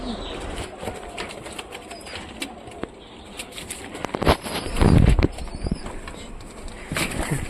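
Pigeons inside a loft flap their wings in sudden bursts, with one loud, close flurry about midway among scattered rustles, light patter and faint cooing, and no talking.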